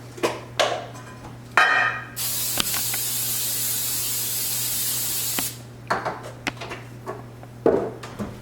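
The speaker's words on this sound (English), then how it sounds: "Just spray it with cooking spray." Cooking spray hisses into an oven-safe casserole dish in one steady, close burst of about three seconds, with brief handling clicks and taps before and after over a low background hum.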